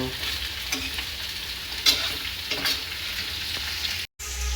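Chicken gizzards frying in a pan, a continuous close sizzle with intermittent scraping and stirring clicks, briefly cutting out near the end, with no one talking.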